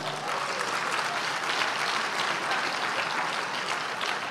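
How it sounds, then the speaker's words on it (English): Sustained, even audience applause at a political gathering honoring a party volunteer, many hands clapping loudly and steadily throughout with no breaks. "had to give him another round of applause"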